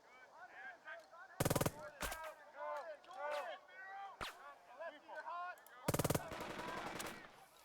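Bursts of machine-gun and rifle fire crackle in the Burden of Command war strategy game, two loud sustained volleys standing out over a steady bed of game sounds and a single sharp shot between them.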